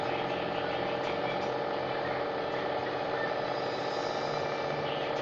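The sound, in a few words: homemade 2000 watt air flux generator motor running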